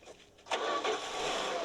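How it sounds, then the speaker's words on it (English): A car engine cranks and catches in a scene from The Blues Brothers (1980), a short burst that then settles into a faint, steady running noise, quiet overall. "Don't mind me starting this car."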